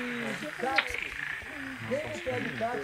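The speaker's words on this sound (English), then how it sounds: "It's the sound of frogs." Frogs croak in Brazil, in the Bonito area, with a dense chorus of overlapping warbling calls close by that carries on steadily throughout.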